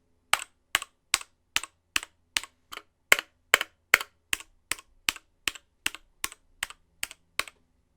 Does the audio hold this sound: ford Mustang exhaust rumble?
no